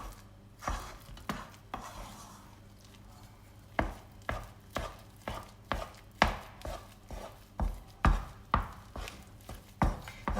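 Thick coxinha dough worked with a wooden spoon in a pot, a run of repeated heavy thuds and slaps, irregular at first then in a steady rhythm, close and fairly loud.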